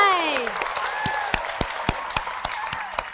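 A studio audience on a Vietnamese dating show claps in response to a host, with a voice trailing off at the start and then a run of separate, fairly close hand claps of moderate loudness.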